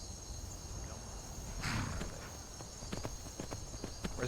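A dappled horse in the video game Skyrim clip-clops at a walk, its hooves landing in a steady, fairly close rhythm. Faint insect or cricket chirping runs underneath.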